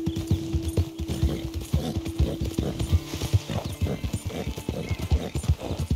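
A horse galloping in Red Dead Redemption 2, rapid rhythmic hoofbeats pounding steadily for several seconds with a brief whinny-like tone early on.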